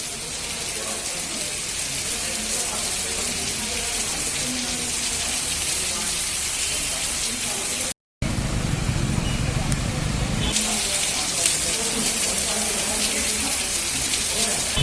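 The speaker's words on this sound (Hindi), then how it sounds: "शहर में 2 दिनों से जारी झमाझम बारिश ने हवाओं से गर्मी और उमस गायब कर" Heavy rain pours steadily in a city, a dense continuous hiss of water falling on surfaces, broken by a brief cut, with a voice speaking over the downpour.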